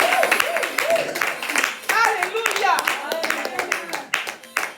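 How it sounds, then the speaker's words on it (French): Women in a church congregation clap in bursts of sharp slaps, mixed with singing and voices, the claps uneven and overlapping the vocal sounds. "Mais moi, je croyais que les femmes allaient applaudir"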